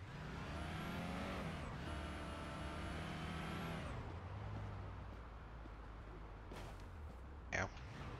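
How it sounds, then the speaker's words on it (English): A patrol car in the Police Simulator: Patrol Officers video game drives with a steady engine drone, then the engine drops off into a lower rumble with a sharp brief burst near the end; no talking. "You can roll your car very easily turning at top speed, so that's why you hear me brake all the time."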